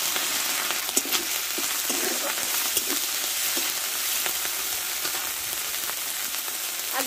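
Onion and ginger paste fries in a pan for a Bengali small-fish curry, giving a steady close sizzle with faint scrapes of stirring throughout and no talking.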